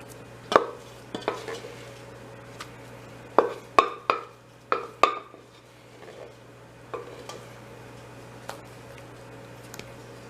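A spatula spreading and smoothing mashed potato over a cottage pie, heard as a run of short, close scraping taps on a dish, several in a cluster, then sparser faint ticks over a low steady hum.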